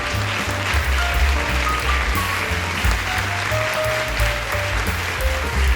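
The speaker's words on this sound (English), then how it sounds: "Give one round of applause." A crowd at a live comedy show claps steadily, a broad wash of applause that keeps going throughout, with a low droning tone and short musical notes sounding underneath.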